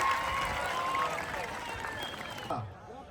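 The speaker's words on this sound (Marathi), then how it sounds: "जरा टाळ्या करायची. टाळ्या टाळ्या टाळ्या टाळ्या." A crowd claps and cheers at an outdoor kushti wrestling bout on the Mandrup ground between Sikandar Shaikh and Vikrant of Haryana. Applause rattles steadily throughout under crowd noise and voices, then thins near the end.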